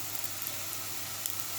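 Sliced onions sizzle and crackle steadily in hot oil in a pan while an okra stew is being started, a dense, even frying hiss heard close up with no talking.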